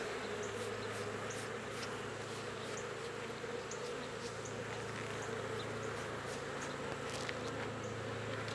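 Steady buzzing from many honey bees around hives during honey collection, a continuous drone with occasional closer passes, faint and even throughout with no talking.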